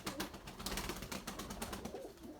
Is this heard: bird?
yes